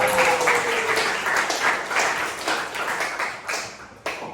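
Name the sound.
students applauding in a classroom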